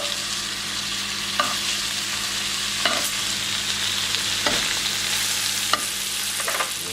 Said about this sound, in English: flip these beautiful bits of bacon over